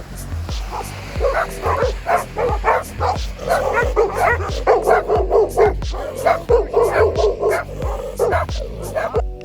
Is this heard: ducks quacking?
no